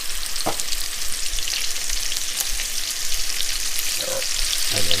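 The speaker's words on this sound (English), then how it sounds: "So we're going to add the mushrooms. I'm going to saute" Mushrooms sauté in oil and butter in a pan for chicken scallopini, giving a steady, loud, close sizzle with a few faint utensil clinks near the end.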